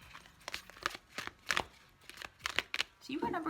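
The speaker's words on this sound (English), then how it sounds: "This deck is very big, so it looks kind of crazy when I shuffle it." A large tarot deck is shuffled in a series of quick papery riffles and flutters, close up, with a soft voice near the end.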